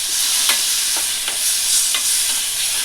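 Tamarind juice is poured into bitter gourd frying in a pan, giving a loud, continuous sizzle with a few soft stirring scrapes and bubbling bursts, close up and without voices.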